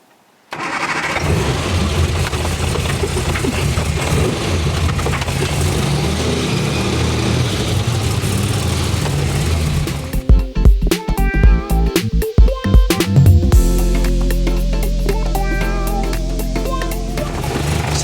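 A classic Mini car runs on a test drive, its engine droning steadily and close for about ten seconds. It then revs, shifts and slows, and a lower rumbling tone follows.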